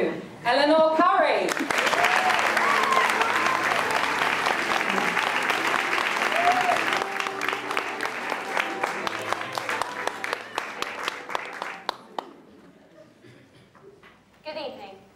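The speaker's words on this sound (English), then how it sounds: "Give a round of applause to Eleanor Curry." An audience applauds as a speaker is welcomed to the stage. Dense, loud clapping comes from a large crowd, thins into scattered claps and then stops.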